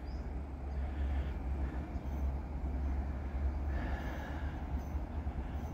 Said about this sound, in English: You can hear the tracks now squealing.